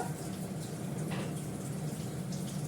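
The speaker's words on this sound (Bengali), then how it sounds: "ধনে পাতাটা পরিষ্কার করে ধুয়ে নেব" Tap water runs steadily into a kitchen sink while coriander leaves are rinsed beneath it, a constant close hiss and splash with no pauses.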